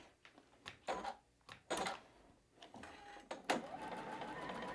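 Sewing machine stitching through fabric on a quilt block after a new bobbin is put in, running in short bursts with pauses between, then a steadier run near the end, fairly close with no talk.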